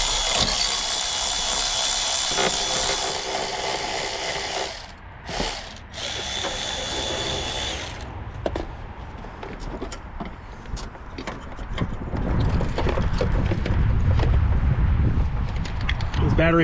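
A ratchet removes 10 mm battery hold-down nuts on a Honda Odyssey, giving up-close clicking and spinning mechanical sounds over shop background noise, with talking at times.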